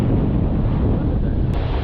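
Strong wind gusting over the sea while fishing from a boat, a loud, rough roar buffeting the microphone, steady and close with slight surges.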